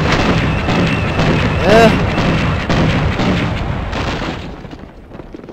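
Heavy booms of tank cannon fire in the World War II shooter Call of Duty, with a continuous roar of battle noise throughout and a brief voice speaking over it.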